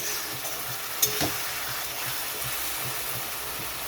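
Tomato and spices being stir-fried for a bhola fish curry, with a steady close sizzle in the pan and a soft, regular scraping of the spatula, plus one brief sharp clink.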